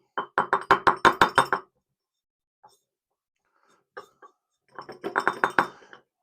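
Powdered ingredient tipped into a glass bottle: two bursts of rapid, close rattling taps with faint clinks in the quiet gap between them.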